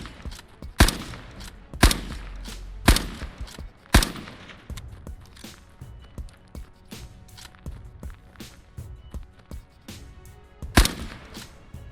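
Kar 98 bolt-action rifle fire in the shooter game Post Scriptum: sharp, loud single shots spaced about a second apart, then a pause filled with softer clatter and movement before one more shot.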